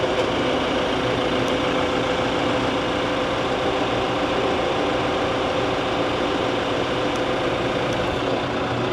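A tractor engine runs steadily in a farming video game, a constant heavy idling rumble at even loudness with no speech over it.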